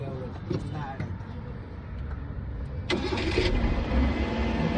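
A car engine cranks and catches, then settles into a steady idle with the AC on, heard from inside or close by with a low constant rumble.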